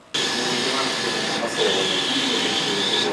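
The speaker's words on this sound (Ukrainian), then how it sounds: "На Чернівецькому підприємстві шумлять швейні машинки." Sewing machines whir steadily in a flag-making workshop, a continuous mechanical drone with a high whine that shifts slightly partway through, running alone without voices.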